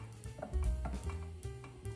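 Liver pancake batter fries in a pan for a liver cake, giving a steady soft sizzle with faint stirring or scraping clicks, close and fairly quiet, with no voices.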